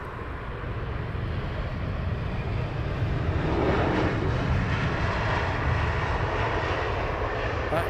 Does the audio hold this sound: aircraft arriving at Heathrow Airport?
yes